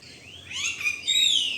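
A pet parrot calls with shrill, rising and falling whistled notes that grow louder over a quiet indoor background, ending in a brief harsh squawk.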